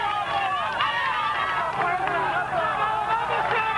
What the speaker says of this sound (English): The noise of the crowd here.